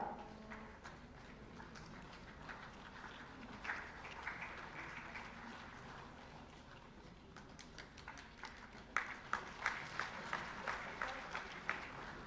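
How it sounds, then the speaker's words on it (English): Fairly faint, scattered clapping from an audience at a felicitation ceremony for school toilet construction. The applause is uneven and grows into sharper individual claps toward the end. "A loud round of applause please for Shri Ram Kumar"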